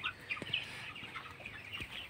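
Young broiler chickens, 22 days old, cluck and peep steadily in a poultry house at night, a soft continuous chorus with a few brief knocks underneath.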